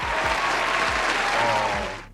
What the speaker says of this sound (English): Round of applause for that brother in the comment.